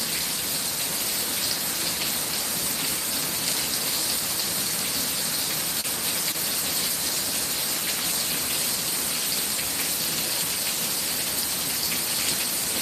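Torrential thunderstorm downpour in Palm Coast, Flagler County, Florida, during a downburst: a steady, dense roar of heavy rain hissing on surfaces, loud and unbroken throughout with no voices.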